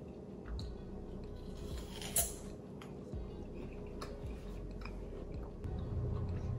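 Quiet, close chewing of a caramel apple treat, with soft sticky squishes and small crunchy bites in a steady rhythm against a faint background hum.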